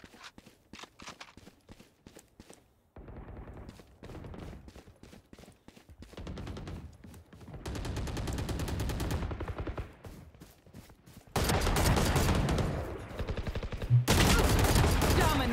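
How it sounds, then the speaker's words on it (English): Video game gunfire aimed at a character named Yoru: scattered single shots give way to sustained rapid bursts that grow louder and denser, ending in heavy continuous firing. "I was shooting everywhere but at the Yoru."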